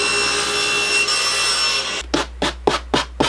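Hand sawing through a wooden sheet being cut as the base of a box, with the first two seconds holding a steady hiss, then about five loud, rhythmic rasping saw strokes close up.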